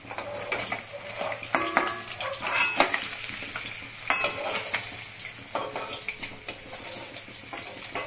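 Pabda fish sizzles steadily frying in a hot pan, with scraping and clinking of a utensil against the pan throughout.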